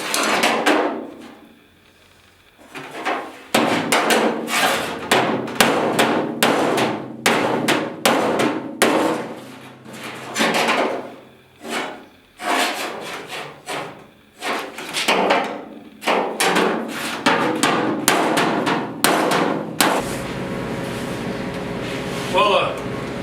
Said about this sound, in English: Pounding out a lot of dents.